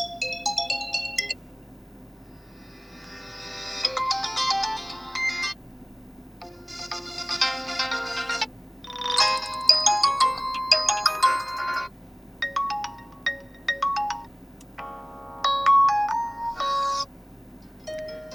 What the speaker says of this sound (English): Now locate and open phone ringtone and pick the tune that you like the most.